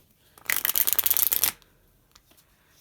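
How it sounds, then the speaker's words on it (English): A deck of playing cards is riffle shuffled once, giving a single close, crisp burst of rapid fluttering clicks that lasts about a second, followed by quiet. "I'm going to give it a couple of cuts and another riffle shuffle."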